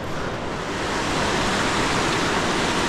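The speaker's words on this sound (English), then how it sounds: "We're just joining the River Greta here as it's coming round." The River Greta flows near Keswick, a dense, steady roar of rushing water heard close and loud, continuous with no talk.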